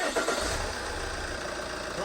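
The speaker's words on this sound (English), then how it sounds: "We'll start the car and see what it's chucking out." A Vauxhall Insignia engine cranks and catches, then settles into a steady idle at close range, running without interruption for about two seconds.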